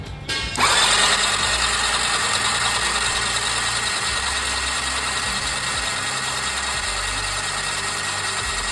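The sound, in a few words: engine started with self-starter and running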